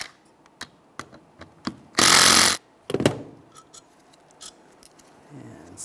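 A power socket tool removes the brake caliper bolts on a 2007-2017 Ford Expedition, one loud short burst of whirring among scattered clicks and clanks of tools.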